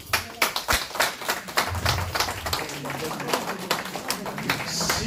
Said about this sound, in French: que nous allons applaudir